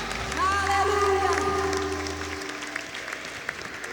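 A church audience at a Christmas musical applauds, a broad wash of clapping that starts loud and fades, with a voice and lingering music tones over it.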